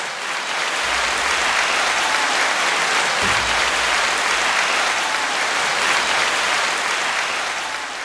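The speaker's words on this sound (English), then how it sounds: "Why don't we go ahead and give John a round of applause" Studio audience applause on a talk show, a dense, even roar of clapping hands sustained loudly for several seconds without speech over it.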